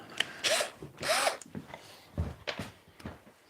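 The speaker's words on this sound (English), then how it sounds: "Or we could just drill a hole in the end." Power drill boring a hole into the end of a wooden piece, several short whirring bursts with pauses between, close and loud, with bits of rubbing and handling.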